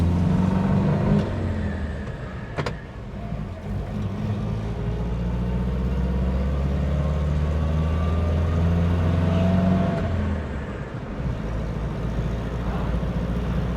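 A 1960s Vauxhall Victor FC saloon drives through town, its engine droning steadily with a low rumble and rising revs as it accelerates through the gears, loud and continuous from start to finish.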